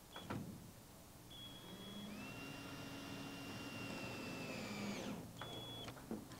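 A cordless drill drives 2.5-inch screws up through the roof ridge into the roof panels of a garden greenhouse from inside. The motor whines steadily for several seconds between brief start and stop bursts, close by and with no talking.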